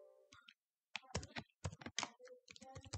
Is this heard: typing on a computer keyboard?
yes